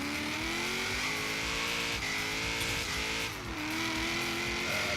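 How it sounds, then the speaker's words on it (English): A street car in Forza Horizon 3 launching from a standing start, its engine roaring loud and steady with the pitch climbing through the gears and one brief dip at a shift. "Then you can just floor it and let the brake go."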